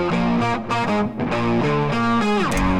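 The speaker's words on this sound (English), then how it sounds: "this is the distortion octave guitar, then normal sort of rock guitar sound, like really classic rock, sort of overdriven thing" Distortion octave guitar layered with a classic overdriven rock guitar in a mix, loud and sustained, with gritty chords shifting in a quick rhythmic pattern and a bending slide near the end.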